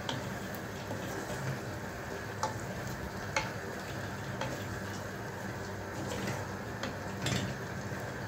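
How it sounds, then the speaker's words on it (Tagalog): A sweet and sour beef meatball mixture is stirred in a pan, with a soft steady sizzle and occasional light clinks of the utensil against the pan. "syempre halu-haluin na yan"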